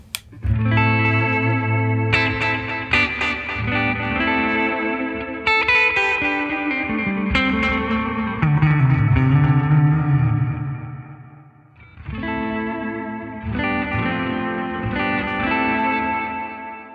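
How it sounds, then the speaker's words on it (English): Sustained guitar chords through a NUX MG30 ring out with repeating dotted eighth delay echoes and a wash of reverb, chords changing every few seconds, loud and spacious. "dotted eighth delay and more reverb, which sounds like this"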